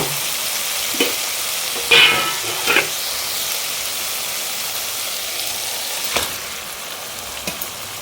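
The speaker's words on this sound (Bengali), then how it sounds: "এখন মাংসটাকে ভালো করে কষিয়ে নেব" Marinated chicken fries in hot spiced oil with a loud, continuous sizzle, broken by a few sharp clacks and scrapes of a stirring utensil against the pan, with no speech.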